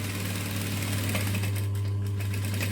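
A sewing machine runs steadily, back stitching along the edge of a diamond-shaped fabric pouch, a close, even mechanical hum with no talking.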